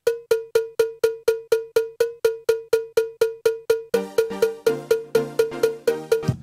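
A steady Ableton Live click track, crisp metronome-like ticks about three per second played alone, then joined halfway through by a fuller chord-like layer as other parts come back in, with no voices.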